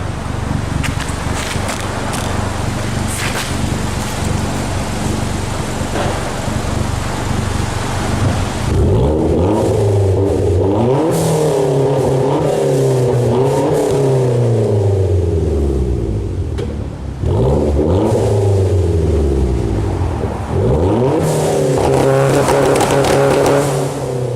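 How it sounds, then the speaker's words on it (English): A tuned Hyundai Genesis Coupe engine rumbles and revs hard in an echoing tunnel, the exhaust note rising and falling in repeated loud sweeps, heard from outside the car. "Let's find out what my exhaust sounds like from the outside of the car"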